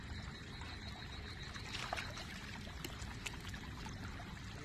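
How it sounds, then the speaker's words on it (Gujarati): Rainwater pouring out of a flooded farm field through an opened pipe outlet, a steady broadband trickle and splash with no voices, the flow constant and fairly close throughout. "પાણી બધું આ નળે થઈને પાછું નીકળી જશે"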